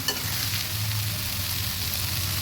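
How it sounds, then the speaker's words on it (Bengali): Hilsa fish head frying in hot oil as it is stirred, a steady dense sizzle with a soft scrape near the start, close and continuous with no voices. "ভালোভাবে নেড়ে ভেজে নিচ্ছি।"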